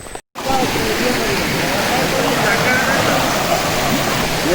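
Deojhar Waterfall and a flowing river crossing make a loud, steady rushing roar that fills the scene after a brief moment of silence at the start.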